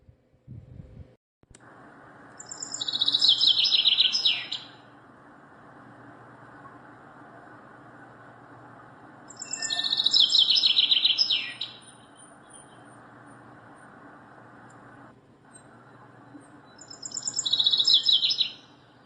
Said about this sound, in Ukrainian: зяблик.